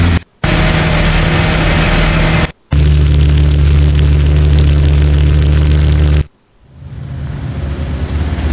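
AI-generated airplane sound effect: a loud, steady broadband roar with a deep low drone, cut by two brief silences, then ending in a quieter, fading hiss.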